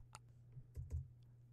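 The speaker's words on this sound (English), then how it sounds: "I am typing something, and it's hearing me" Quiet typing on a computer keyboard, a few soft scattered key clicks with pauses between them over low steady background hum, no voices.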